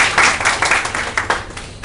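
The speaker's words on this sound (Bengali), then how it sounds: "হাততালি দেন আমার জন্য।" A classroom audience in a programming lecture claps in a dense burst of applause, many hands patting quickly and unevenly, loud and close at first then thinning slightly toward the end.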